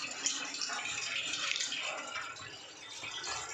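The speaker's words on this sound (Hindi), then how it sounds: "पानी भर रहे हैं इसके अंदर।" Water is poured into a Tata Swach steel water purifier, a steady hissing, splashing stream that runs throughout at moderate to soft loudness, with no talking over it.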